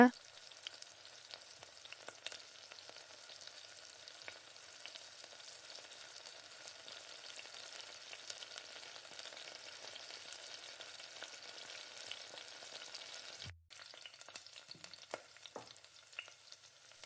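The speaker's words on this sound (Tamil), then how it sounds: "நல்லா வெங்காயம் வதக்கி விட்டு ஒரு 2 நிமிஷம் 3 நிமிஷம் நல்லா வதக்கி விடுங்க." Onions sizzle steadily in a hot pan over low flame, a constant crackling hiss broken by occasional stirring scrapes and a brief pause near the end.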